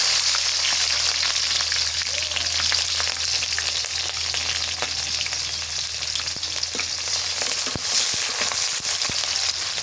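Onion and green chilli sizzle and fry steadily in hot oil for a Bengali rui fish kalia, a continuous close crackling hiss with occasional stirring, no talk.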